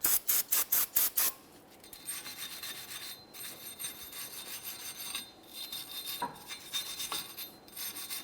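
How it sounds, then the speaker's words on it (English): A wire brush scrubbing the rear hub mating surface of a 2015-2019 Subaru Outback during a rear brake job. It opens with a quick run of hard, rhythmic strokes, then settles into softer, uneven rubbing close by. "For this, I'm just going to use a wire brush."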